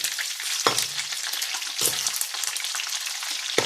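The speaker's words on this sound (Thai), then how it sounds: "ทำกากหมูนะคะเสร็จแล้วเราเอามาทอด" Sun-dried marinated pork frying in hot oil, a dense continuous sizzle with a few sharper crackles and stirring scrapes, close and fairly loud, no voices.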